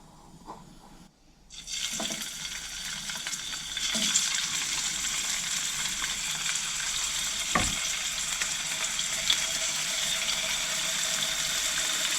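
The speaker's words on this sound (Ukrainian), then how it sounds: "беру казанок, наливаю трішки олії" Steady, loud sizzling of meat frying in a little oil in a cauldron pot, a continuous crackling hiss with a few brief clinks and scrapes along the way.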